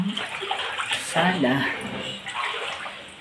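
Someone wades through knee-deep floodwater inside a house in Bulacan after a typhoon, with sloshing, splashing water close by and a person speaking over it.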